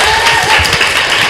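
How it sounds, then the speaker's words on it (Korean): An audience at a consumer meeting applauds once more for a presenter, dense steady clapping from a crowd filling the whole moment at close range. "박수 한 번만 더 드릴게요"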